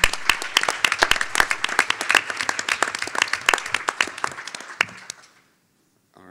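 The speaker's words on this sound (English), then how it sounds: "I hope that we could all just give one more round of applause to all of our presenters." Conference audience at the DigiPres 2018 closing plenary gives presenters a round of applause, dense close clapping that swells and then tapers off into silence near the end.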